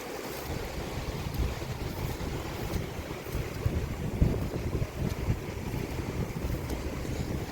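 Steady wind buffeting the microphone outdoors in rainy, misty weather near Paderu village, a continuous low rushing roar with gusts and no talk.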